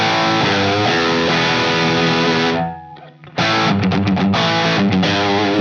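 An electric guitar played through a Quad Cortex preset with a light, subtle crunch distortion, loud sustained chords that briefly drop out, then return with rhythmic strums, no talking.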